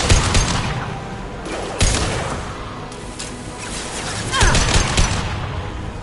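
High-impact gunfire in the video game Mass Effect 2, with loud booming shots and crashing impacts in bursts over a dense, constant roar of game noise.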